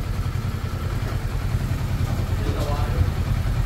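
A Kawasaki Ninja 400 engine idles steadily in a shop with a low, continuous rumble that stays close and even throughout, while people talk over it.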